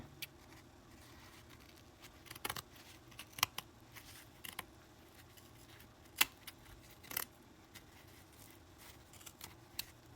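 Scissors snip through burlap canvas in a quiet room, sparse crisp cuts arriving irregularly, a few sharper closing clicks among softer fabric crunches.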